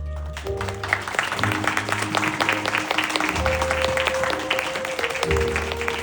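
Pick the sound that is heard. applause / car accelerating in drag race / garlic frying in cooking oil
applause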